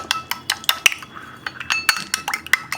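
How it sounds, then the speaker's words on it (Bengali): Metal utensil scraping and clinking against a pan as Maggi masala is stirred into a pasta sauce, irregular quick taps and scrapes close up, with no talking. "এবার ভালো করে মিক্স করবো"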